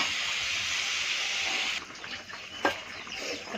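Potato and soybean curry in a pot gives a steady bubbling hiss that drops off partway, followed by faint clinks and a brief knock; fairly quiet, no talking.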